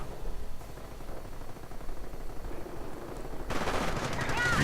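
An MG42 machine gun rattles in a World War II video game battle, a dense continuous stream of rapid fire swelling louder toward the end amid the din of combat.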